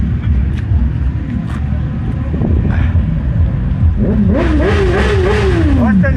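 Loud engine rumble with wind buffeting throughout at a motorcycle festival, then a motorcycle engine revs up and down, its pitch climbing and falling over a few seconds.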